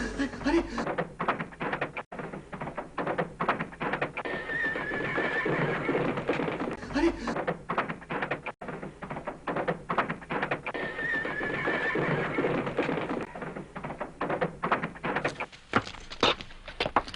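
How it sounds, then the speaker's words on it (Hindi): Animated horses whinny and neigh over a steady clatter of galloping hooves, the loud neighs and hoofbeats close and repeating in two similar bursts throughout. "ये तो घोड़े के टापों की आवाज है।"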